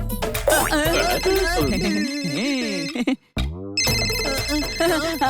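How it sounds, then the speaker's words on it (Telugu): Cartoon phone ringtone signalling an incoming call in a children's animated show, a bright repeating electronic melody that plays loudly, breaks briefly near the middle, then resumes. "అర్జెంట్ కాల్ వస్తుంది."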